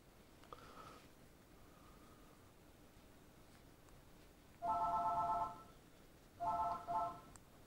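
A telephone rings indoors on a workbench during a crimping tool test, with one short early trill followed by two loud electronic ringing bursts near the end over quiet background hiss.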